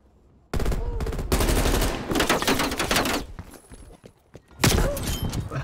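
Rapid automatic gunfire in a Call of Duty Black Ops Cold War team deathmatch on the Zoo map, loud close bursts of sustained machine-gun fire broken by brief pauses.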